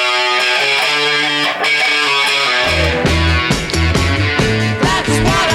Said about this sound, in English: But you put the fuzz pedal on,